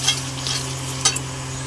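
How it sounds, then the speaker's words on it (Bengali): Paste of tomato, poppy seed, cashew and melon seed sizzles in oil as it is stirred. A steady close hiss runs under a low hum, and a few sharp spoon clicks and scrapes cut through. "দিয়ে দেবো টমেটো এটাকে আমি এবার কষিয়ে নেব"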